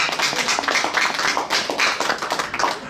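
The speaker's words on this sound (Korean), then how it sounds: "박수를 다시 박수요" A small gathering at a Buddhist temple dharma talk claps together in a quick, uneven patter of hands, close and lively for a few seconds.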